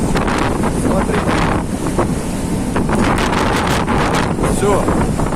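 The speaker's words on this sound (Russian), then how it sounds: "Смотрите, как волна херачит." Storm wind and ocean waves battering a boat in a force 10 Atlantic gale, a loud, constant roar of gusting wind buffeting the microphone over crashing, sloshing water, with a voice speaking over it.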